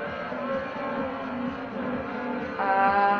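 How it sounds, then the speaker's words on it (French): Steady engine drone of a car in Forza Motorsport 4 holds a sustained note at moderate level, rising slightly in pitch and volume near the end. "Le bruit de la voiture."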